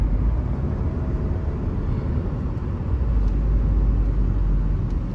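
A Tata Harrier diesel SUV cruises on the road, giving a steady broadband rumble of engine and tyre noise from inside the cabin, with no talking.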